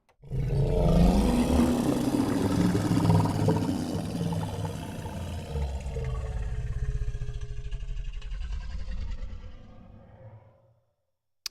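A designed creature roar built for a monster sound library, a loud, sustained growling bellow lasting about ten seconds that slowly fades with some processing artifacts before cutting to silence.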